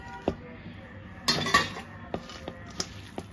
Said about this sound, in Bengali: তো তেলটা দিয়ে আমি ভালোভাবে মাখিয়ে এখন দিয়ে দিব টমেটো কুচি